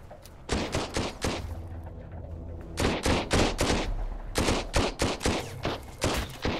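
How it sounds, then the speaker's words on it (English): Machine gun fire in the survival video game Sunkenland comes in repeated loud, sharp bursts with short gaps between them. The rattling volleys run through the whole stretch with no talk over them. "Seriously, they have a machine gun already?"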